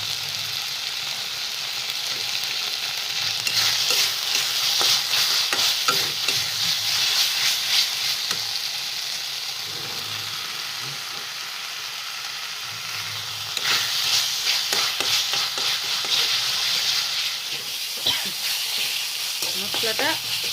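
Masala spice paste stir-fried in a pan sizzles steadily and loudly, with scraping and stirring noises rising and falling throughout.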